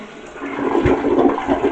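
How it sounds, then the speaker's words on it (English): A newly installed replacement toilet flushes with a close, short gurgling rush of water, the surge swelling and churning for under two seconds. "let's see if this actually flushes on its own or not."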